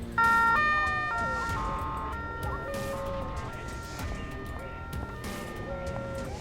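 A police car siren in the emergency-services video game Emergency 4 wails in stepped, sustained two-tone notes over a dense, noisy background of vehicle and scene ambience.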